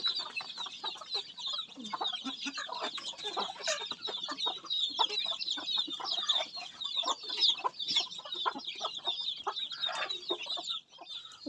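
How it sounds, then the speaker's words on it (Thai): A flock of chickens, big and small, clucks busily and continuously during feeding, with dense overlapping calls close by. "กินโล่มกันเลยไก่เยอะแล้วก็ไก่น้อยนะกินโล่มกันเลยพี่น้อง"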